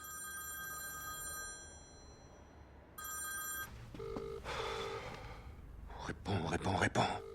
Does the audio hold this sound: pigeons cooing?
no